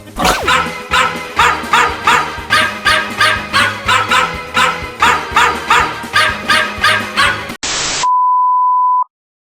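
A dog barks in a fast, steady series of loud, close barks for several seconds. After the barking stops, a burst of noise follows and then a single sustained electronic beep.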